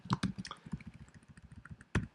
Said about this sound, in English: I'm typing quickly